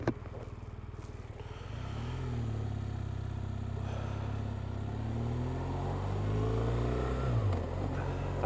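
A motorcycle engine idles with a quick throttle pulse, then holds a steady, loud rumbling drone as the bike pulls away and the pitch rises and falls through the gears, heard close up without voices.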